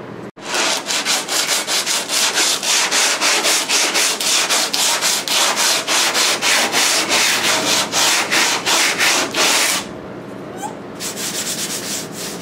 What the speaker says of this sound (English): let me put a new piece of sandpaper on there and then we'll start